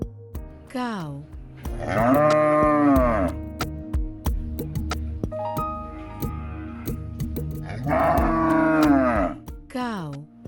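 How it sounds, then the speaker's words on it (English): A cow gives two long, loud moos a few seconds apart, deep and drawn out, over a light musical backing with quieter pauses between. "Cow."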